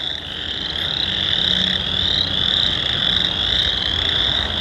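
A loud, unbroken chorus of croaking frogs near a creek on a spring trail buzzes and trills in overlapping waves, close and steady throughout.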